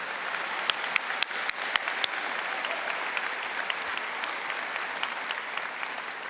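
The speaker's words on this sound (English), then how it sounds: "Can I get a round of applause for all of you?" Sustained applause from a convocation audience, even and steady throughout, with a few sharper individual claps standing out near the start.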